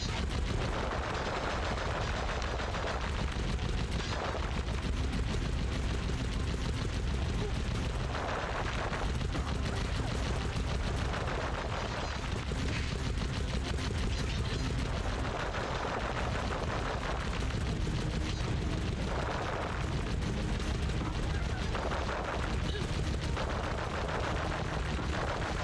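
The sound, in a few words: gunfire from Sly Cooper video game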